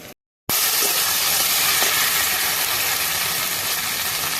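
Ginger, garlic and green chilli paste sizzles loudly in hot oil for a mutton liver and fat curry cooked outdoors on a rooftop, a steady close hiss after a short silent start.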